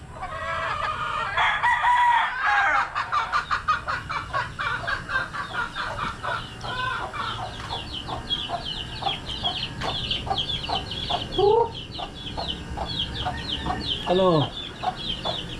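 Chickens and chicks cluck and peep close by on a rural farm, with a rooster crowing loudly early on and further crows later, and a brief voice heard among the birds.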